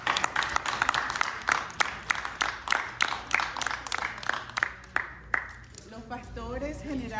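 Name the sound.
congregation applauding in church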